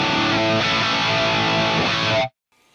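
A heavily distorted electric guitar chord rings out loud and thick through a capture of a 5153 amp's red channel on a Fractal unit, sustaining for about two seconds before cutting off abruptly.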